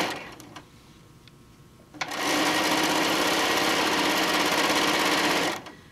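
Sewing machine edge stitching a tote bag panel with an edge stitching foot: a quiet start, then a steady, loud continuous mechanical whir running about three and a half seconds before stopping abruptly.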